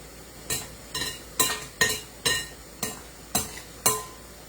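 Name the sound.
stirring a mixture with a spoon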